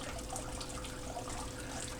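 Water runs steadily through a blue bowl used for gold panning, a continuous close trickling and splashing flow with no pauses.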